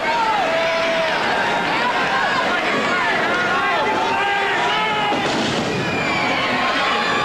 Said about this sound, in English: Some of the crowd hollering, go for the leg, break his leg.